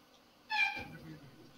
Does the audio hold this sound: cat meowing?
yes